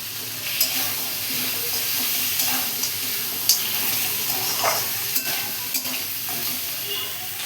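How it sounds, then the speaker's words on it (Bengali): Pre-fried crabs stir-fried with spices in a pan make a steady, close sizzle throughout, with scraping stirs and occasional sharp clacks of the utensil against the pan. "এবার আমি দিয়ে দেবো ভেজে রাখা কাঁকড়াগুলো। এই কাঁকড়াগুলো দিয়েও আমি আর একটু কষিয়ে নেব।"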